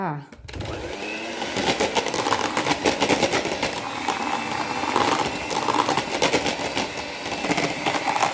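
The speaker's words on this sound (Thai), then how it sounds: "น้ำส้มกับเจลาติน ปั่นต่อให้แข็งเลยค่ะ" An electric mixer whirs steadily as it whips orange juice with gelatin for a dome-shaped orange cake, a close, buzzing drone with rattling spikes while someone talks over it.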